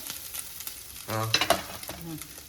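Grated coconut and chilli flakes frying in a pan, a close, steady sizzle with scraping stirs and a louder burst of crackle partway through.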